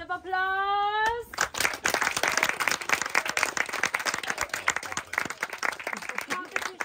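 After a short rising tone, a small audience breaks into lively clapping that runs for several seconds, with individual sharp hand claps audible and some voices under it.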